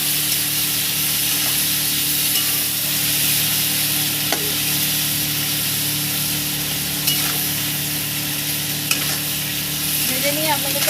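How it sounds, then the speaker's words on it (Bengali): Prawns frying lightly in a pan give off a continuous close hiss and sizzle, steady throughout, broken by a few faint clicks of stirring and no talk. "এখন আমি হালকা করে চিংড়ি মাছগুলো ভেজে নেব"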